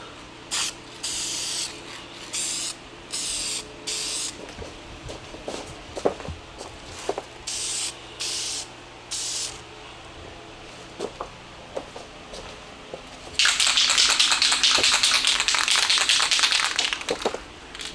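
Short hissing bursts of spray paint as a light coat goes onto Hellcat wheels, separated by footsteps and light taps, ending in one long continuous spray pass close by.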